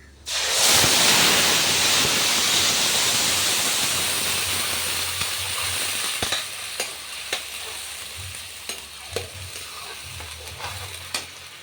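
Onion, ginger and garlic paste hits hot oil already seasoned with bay leaf and panch phoron, bursting into a loud, close sizzle that slowly settles into a steady hiss with scattered pops and stirring clatters.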